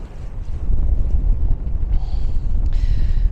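Strong wind buffets the microphone on open moorland near Darwen Tower, a loud continuous roar with gusty low rumble and a few brief hissing rustles.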